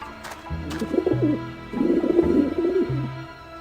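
Pigeons coo in the Grim Fandango video game, with low, rounded calls repeating in several rolling phrases, close and clear with no talk over them.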